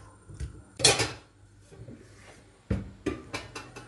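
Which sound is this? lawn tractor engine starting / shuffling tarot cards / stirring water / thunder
stirring water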